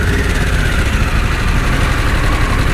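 A Harley-Davidson Pan America adventure motorcycle engine idles in neutral close by with a steady, rough low rumble, constant in level and without talk.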